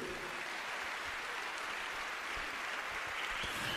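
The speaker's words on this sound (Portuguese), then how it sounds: "Quem pode aplaudir forte a Jesus?" Church congregation applauding after the preacher calls for loud applause for Jesus, a steady dense wash of clapping held evenly for the whole stretch at moderate, somewhat distant level with no voices over it.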